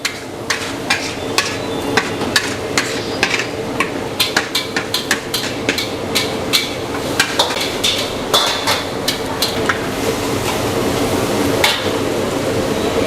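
Dried shrimp (ebi) stir-fried in a pan, a loud steady sizzle punctuated by frequent sharp spatula scrapes and taps on the pan, no talk.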